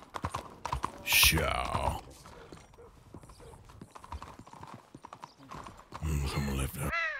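Horse hooves clip-clop on the streets of Blackwater in the video game Red Dead Redemption 2, with bursts of close trotting at the start and end and someone talking between them.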